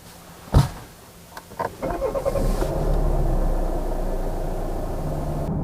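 A Volvo XC40 SUV starts and pulls off, a door or button clunk followed by the engine rising into a steady, moderate cabin drone as it drives.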